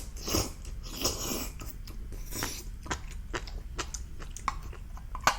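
Close, steady chewing of spicy ramen and tteokbokki rice cakes, with wet smacking and crunchy bites repeating in an uneven rhythm throughout, near and alone without talk.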